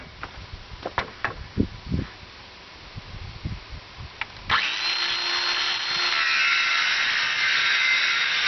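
A power saw starts up and rips through 3/4 inch heavy duty plywood with a loud, sustained whirring cut after a stretch of scattered knocks and handling clatter.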